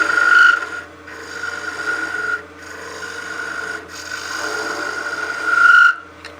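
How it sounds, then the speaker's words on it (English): A skew chisel makes planing cuts on a small mushroom-shaped Christmas ornament spinning on a wood lathe. Close, raspy shearing strokes swell and fade in several passes, with short pauses between them. "we can go to our skew and do some good planing cuts in here"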